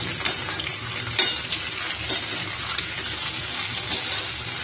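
Potatoes sizzle steadily in oil in a pan, with scraping and stirring clatter as they are turned over, close and continuous, no voices.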